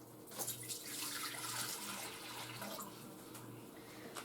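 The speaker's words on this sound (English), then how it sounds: "so I'm going to put my water in" Warm water at 115 degrees is poured steadily into a bread machine pan for gluten-free bread, a continuous soft splashing trickle at close range with no voices.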